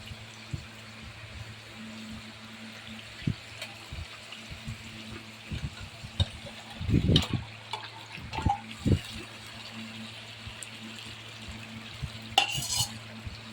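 Fish pieces go into oil-rich, well-fried masala in a home kitchen and get stirred, giving a low steady sizzle with scattered scraping and clinking of a spatula against the pan, busiest around the middle, with no talk.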